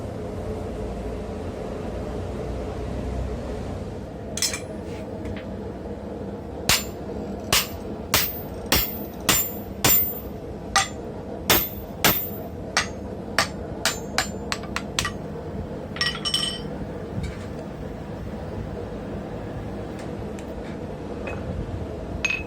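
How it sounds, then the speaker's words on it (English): A blacksmith hammers a steeply tapered drift through slit narrow steel: about twenty sharp, ringing metallic strikes at a steady rhythm, close and loud, over a constant background hiss, with no talking. "use this steeply tapered, or what I call spreading tool, to start to drift out the hole."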